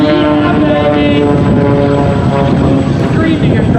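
A small propeller airplane passes at an air show arrival in fog with a loud, sustained engine drone and steady harmonic hum, close and unbroken throughout.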